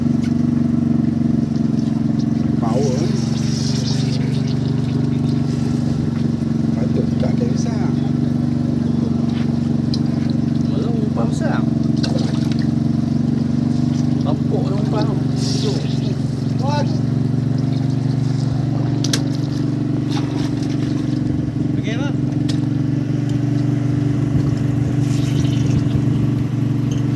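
A deep-sea fishing boat's motor runs steadily throughout, a loud continuous low drone with scattered clatter and voices talking over it.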